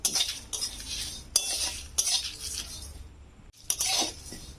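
Spices for mango pickle being fried and stirred in a pan over low heat, with repeated metal utensil scrapes and clinks against the pan over a soft steady sizzle, close and fairly loud, no talking.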